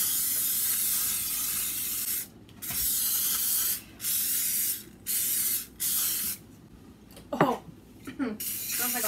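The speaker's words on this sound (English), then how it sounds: "now it's time to spray the pan" Olive oil sprays from an aerosol can onto a baking pan in several sustained hissing bursts separated by brief pauses, with a short voice sound near the end.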